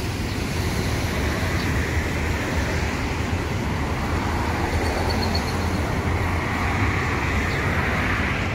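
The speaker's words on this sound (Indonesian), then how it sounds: "Lalu lintas di pagi hari ini di tahun baru" Steady, loud roadway noise from morning traffic near a bus station on New Year's, a continuous broadband rumble of cars and buses with no clear gaps, no talk.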